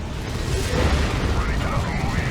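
Whirlwind vehicle destroyed in the Dawn of War 2 Retribution strategy game, with a dense, loud rumbling boom that holds steady for a couple of seconds.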